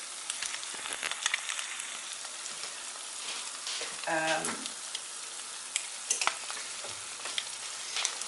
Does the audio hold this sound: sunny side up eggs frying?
yes